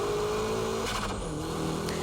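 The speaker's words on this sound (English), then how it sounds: "And from here, it's power drifting." Engine revs loudly and steadily as a car power drifts around a bend, the pitch shifting up and down as the throttle changes, with a brief tire squeal partway through and no talk.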